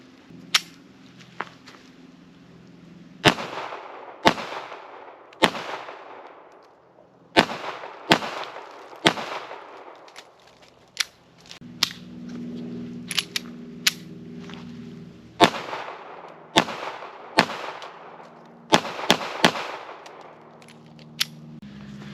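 A Ruger LCP pistol fires during a 100-round test. Sharp, loud shots crack out singly and in quick pairs at irregular intervals, with quiet gaps and faint handling noise between them.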